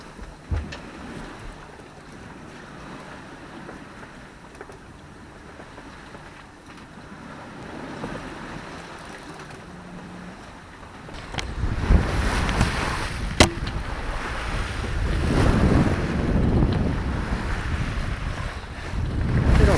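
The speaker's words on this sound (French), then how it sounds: "On avance tranquillement à la voile." A solo sailboat crossing the Bay of Biscay under sail, with a steady rush of waves and hull noise. Wind buffeting grows louder partway through, with occasional sharp knocks and no voices.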